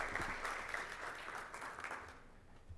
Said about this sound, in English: If we can just give a quick second to give Ratib a warm round of applause for putting this together